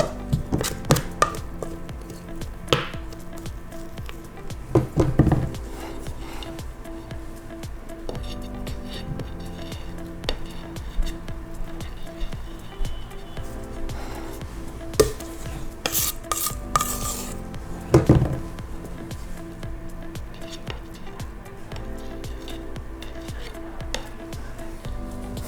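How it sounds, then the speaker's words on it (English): A spatula scrapes and spreads icing over a chilled gluten- and dairy-free strawberry shortcake, with soft irregular strokes and light taps against the plate, fairly close and unaccompanied by talk. "So I'm using a spatula,"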